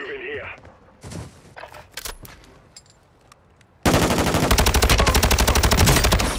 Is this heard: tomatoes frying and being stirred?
no